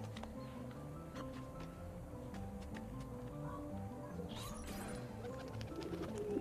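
Pigeons coo softly at a distance over steady ambient game background in Assassin's Creed 2, with a few faint clicks and a brief rustle partway through.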